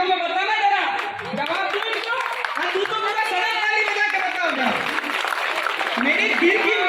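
An audience at a Hindi stage performance claps and cheers in a steady, dense wash that lasts the whole stretch, mixed with voices and tonal sound.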